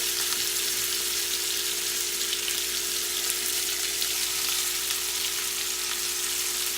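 Corn cooking in plenty of butter in a pan fries with a steady, even sizzle and crackle that runs unbroken and close throughout, with no talking.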